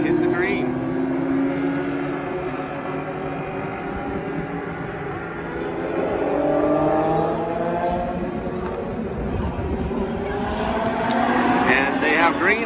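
Race cars run two by two on a parade lap at Magic Valley Speedway, a steady engine rumble rising and swelling through the clip, with track announcer commentary over it.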